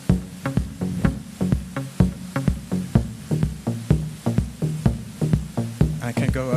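Pitched machine-drum pattern randomized between two notes, a busy repeating loop of punchy low hits alternating in pitch, steady and loud throughout with a brief sweeping tail at the end.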